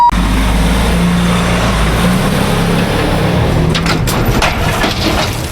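A truck unloading gravel onto a driveway for a gravel driveway job. Its loud engine drones steadily close by, while a coarse rushing, rattling wash runs underneath throughout with no voices.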